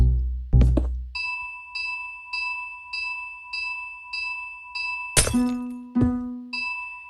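Ice chimes ring from a note block on natural ice in a video game, with a steady run of evenly spaced, bright, high bell-like dings. A louder, lower struck tone breaks in near the end.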